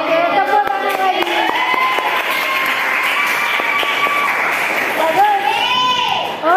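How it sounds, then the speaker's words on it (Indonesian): A class applauds: a short burst of clapping from a group of students, mixed with children's voices and chatter, fairly close and lively. "Oke, tepuk tangan lagi."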